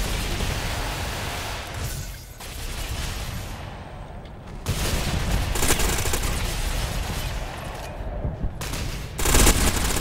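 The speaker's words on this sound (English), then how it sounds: "this SMG is so powerful." Submachine gun fire in the shooter game Ghost Recon Phantoms crackles in rapid bursts over a continuous noisy battle bed, with a short pause before louder volleys resume near the end.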